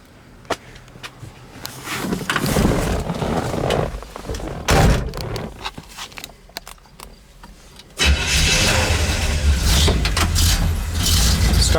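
A 1969 Chevelle engine cranks and catches, then runs loudly and steadily up close, with a door thunk and a rev surge along the way.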